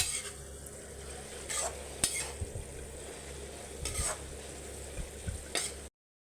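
Tamarind kuzhambu simmering in a pot, a soft low bubbling and gentle sizzle with a few scraping knocks of a ladle against the vessel, quiet and close, then stopping abruptly.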